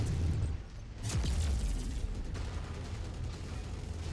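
Heavy gunfire from a dropship in a mech combat video game comes as a low, rumbling barrage of booms and bursts, rolling continuously at moderate distance.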